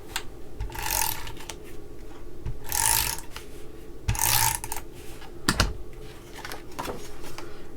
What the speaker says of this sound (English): I am going to just adhere that down with our tape runner now